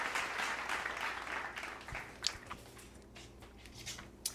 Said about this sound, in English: Put a hand clap right there.